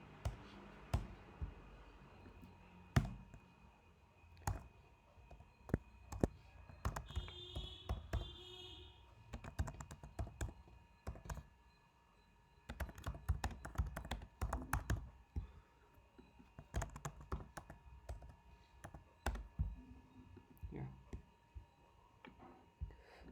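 Keys clatter on a computer keyboard as code is typed, bursts of close, crisp taps with short pauses between runs, quiet and without talk.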